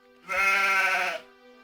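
A single sheep in Gothic 2 gives one clear, nasal bleat lasting about a second, close and isolated against near silence.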